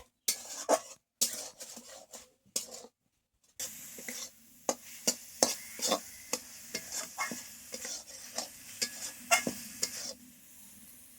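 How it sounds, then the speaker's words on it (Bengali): Gadla is stirred continuously as it fries in a pan, with a quick series of sharp spatula scrapes and knocks on the metal over a soft sizzle, pausing briefly before resuming steadily. "অনবরত নেড়ে নেড়ে"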